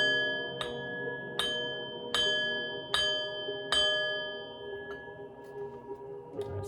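A struck bowl rings out five times in a steady, spaced rhythm, each clear metallic ding sustaining and overlapping the next, then fading with faint lingering tones, close and alone.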